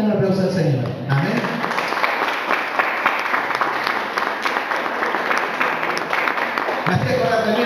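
A church congregation claps together in sustained applause, a dense, steady wash of many hands that fills the room, with speech briefly at the start and end.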